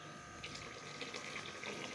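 Ice-cold water from the freezer poured into a pot for Kashmiri tea, a soft, steady pouring stream that is fairly faint and continuous, with no talk.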